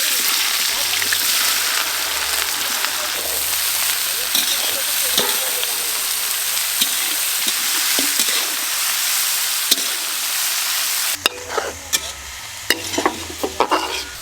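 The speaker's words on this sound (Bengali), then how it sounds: "মাংস রান্নার জন্য ফোড়নে গোটা জিরে, গরম মশলা, শুকনো লঙ্কা দেব" Whole cumin, garam masala and dried chillies frying in hot mustard oil for a meat curry: a loud, continuous sizzle close by, punctuated by scattered stirring knocks and clinks.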